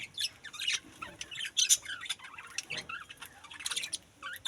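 Pet birds feeding busily on tulsi leaves, giving a steady run of close, bright chirps and short squawks with small pecking clicks and no talk.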